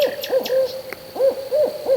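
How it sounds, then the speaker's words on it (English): A barred owl hoots from a neighbor's garage while a mockingbird harasses it: a run of deep, rounded hoots, loud and close, with thin, higher bird calls flickering above them. "The barred owl had landed on the neighbor's garage, menaced by a mockingbird"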